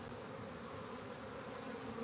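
Honeybees from a queenless hive being shaken out make a dense, continuous buzz, loud and close, holding steady without any voices.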